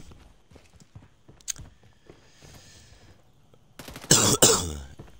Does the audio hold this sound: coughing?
yes